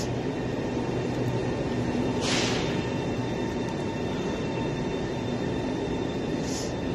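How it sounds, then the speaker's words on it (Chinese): High-speed D2696 train pulling into Shandan Horse Farm station in Gansu, on a line built for 250 km/h: a steady, loud roar of wheels and rolling stock fills the whole stretch, with a brief airy hiss partway through and another near the end. "进站了。动二六九六，这边的设计时速二百五十公里。"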